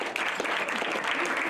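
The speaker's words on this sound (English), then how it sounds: "let's give him one more round of applause" Dense, steady applause from an audience at a school banquet fills the whole moment, loud and continuous without any pause.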